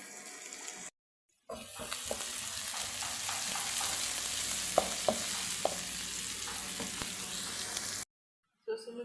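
Onion goes into hot oil and fries with a soft, steady sizzle marked by occasional utensil clinks, framed by brief moments of silence.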